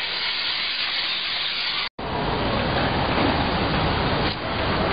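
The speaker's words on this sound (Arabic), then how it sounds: "يلا شغل بخار، شغل بخار كله كله كله" A steam car wash machine sprays a continuous, loud, close hiss of steam onto a car, broken only by one brief cut-off before the blast resumes.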